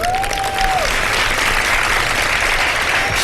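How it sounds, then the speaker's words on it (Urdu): A television studio audience claps loudly and continuously, a dense close wash of applause with no break. "اس بات پہ تالیاں بجا دیں بھائی"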